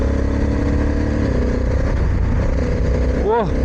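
A motorcycle engine drones steadily on a wide, smooth mountain road between Slovenia and Austria, loud and close with wind noise, while a rider talks over it and a brief rising whine sweeps through near the end.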